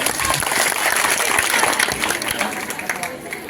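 Children and parents clap at a school parent-teacher meeting, a lively burst of applause that is loud at first and thins toward the end, with voices mixed in.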